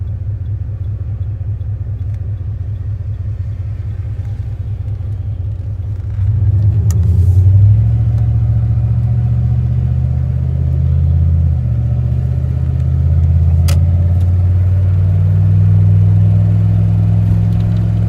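A 1995 Dodge Ram with a 5.9L V8 and welded exhaust cruises on the highway, a loud steady engine rumble and drone from inside the cab that swells as the truck pulls harder partway through.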